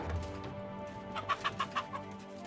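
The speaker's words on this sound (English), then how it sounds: "Here's the chickens." Chickens cluck in Kingdom Come: Deliverance II: four short, evenly spaced clucks in quick succession over steady background game ambience.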